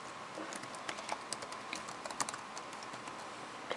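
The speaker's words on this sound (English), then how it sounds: "Now tapping on the keyboards" Fingers tap quickly and unevenly on a computer keyboard, a close, light patter of clicks with no voices over it.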